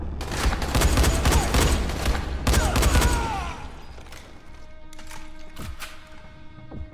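Rapid bursts of gunfire from enemies in the video game Dying Light ring out loud and dense for about three seconds, then thin into a few scattered shots and echoing booms over a lower background.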